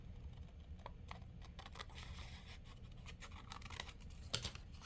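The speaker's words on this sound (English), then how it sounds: "now I am going to cut out one of those corners" Scissors snip through a square of paper folded corner to corner twice, cutting out one corner: a run of short, crisp scratchy snips and rustles, fairly faint and close, with no talking.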